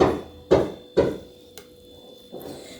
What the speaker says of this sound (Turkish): gelen o takıntı sesler tadilattan kaynaklı